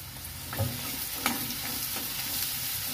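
Onion cooks with salt in a pan for kolambi pohe, a steady close sizzle of frying with a few light spoon scrapes and taps, with no talking.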